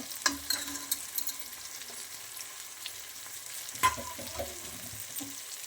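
Masala spices for mutton biryani, including garam masala, chilli powder and biryani masala, sizzling and frying in a pan, with scattered scraping stirs and clicks over a steady close hiss.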